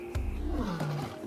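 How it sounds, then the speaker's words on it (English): A lion's deep roar rumbles close and loud, rising into a throaty call that slides downward, with a second shorter surge near the end, alone without talk. "Lions have the longest larynxes or voice boxes and are capable of the loudest roars."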